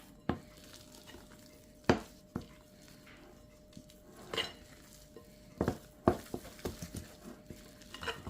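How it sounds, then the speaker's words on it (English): Coconut flour bread batter being mixed in a bowl with vinegar added, giving sporadic scraping and tapping strokes of a utensil against the bowl, fairly close and quiet with pauses between bursts and no talking. "And I'm mixing it properly."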